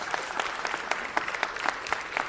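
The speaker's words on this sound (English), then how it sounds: "So let's give these ladies a big round of applause." An audience at a city council meeting applauds a girls' volleyball team, giving a moderately loud burst of mixed claps with some sharper individual hits standing out from the steady patter.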